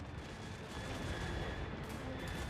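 Cannon artillery in the Total War Warhammer 3 battle game, in a dense, continuous roar of booming gunfire and battle noise, loud and unbroken with no speech.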